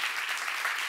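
A church seminar audience bursts into dense, continuous applause, a steady roar of many hands clapping with nothing else heard.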